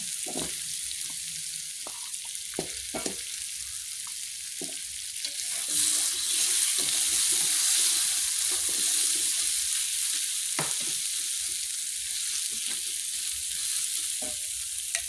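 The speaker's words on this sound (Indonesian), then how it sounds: "Kita aduk-aduk. Setelah itu masukkan kentangnya ya." Potatoes stirred in a frying pan with salam leaves and galangal for vegetable lodeh: a loud, steady sizzle that swells as they go in, with occasional scraping stirs.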